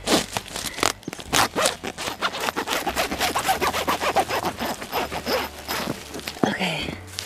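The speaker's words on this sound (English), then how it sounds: "if the zipper's not frozen shut" A frozen tent zipper drawn open in a long series of quick ratcheting pulls in snowy weather, close and crisp, ending with a fabric rustle.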